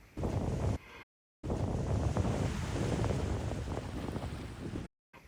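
Ocean surf washes along a Cape Cod shoreline near Falmouth, with a salt marsh on one side, as a steady roar under heavy wind buffeting the microphone, broken by brief cutouts of silence.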